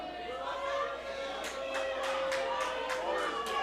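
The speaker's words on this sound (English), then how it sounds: "One person clapping." A single person clapping at a wrestling casket match, about eight evenly spaced claps heard faintly over a murmuring crowd and commentary.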